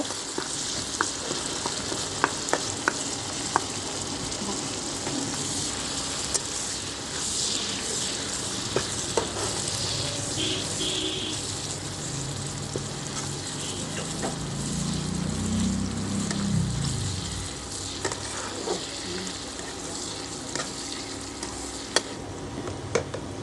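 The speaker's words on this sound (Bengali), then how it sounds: "আমরা মশলাটাকে ভালো করে কষিয়ে নেব" Spice paste with turmeric powder and salt frying for a Bengali bata fish curry, a steady close sizzle with scraping stir strokes throughout and no talking.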